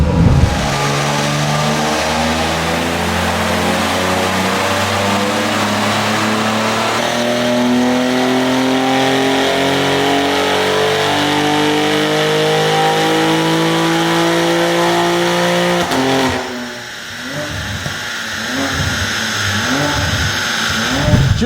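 Tuned BMW G80 M3 straight-six on a chassis dyno, revving loud and close in one long rising pull with stepped harmonics climbing through the gears, then a sharp lift-off with popping and crackle near the end.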